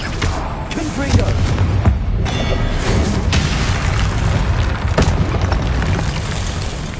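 In the Hogwarts Legacy video game, a Confringo fire spell explodes as loud booming blasts within a dense, constant wash of game sound.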